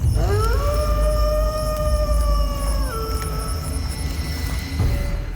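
Wild dogs or wolves howl at night in a jungle with long, rising, sustained calls. Several voices overlap over a steady background of insect-like hiss, and one call slides downward near the end.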